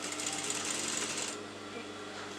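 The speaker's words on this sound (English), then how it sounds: "place the lining on the pretty side of the fabric, and I'm just sewing this" A sewing machine stitches kurta lining onto fabric around a neckline, a steady close mechanical whir that drops slightly in pitch and intensity partway through.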